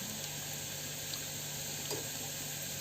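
Onions softening in a pan, cooked for a soya biryani, make a soft, continuous low sizzle, faint and even throughout with no talk over it.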